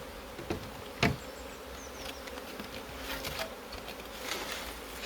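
Honeybees buzz steadily as hive frames are shaken, with a sharp knock or two from the wooden frames near the start and a close, continuous hum throughout.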